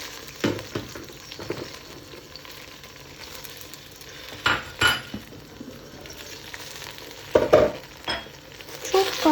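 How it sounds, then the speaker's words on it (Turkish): Chopped peppers tumble into a simmering pot of tomato sauce in a few brief clattering drops, with soft bubbling and sizzling underneath. "Şöyle doğramış olduğum biberleri yavaş yavaş tencereme alıyorum."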